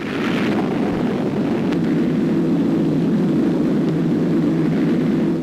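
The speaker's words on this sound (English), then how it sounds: "The death-dealing planes of the task force return" Warplanes of a World War II task force returning from strikes over Iwo Jima in 1945, a steady loud engine roar filling the whole stretch, heard through old newsreel recording hiss.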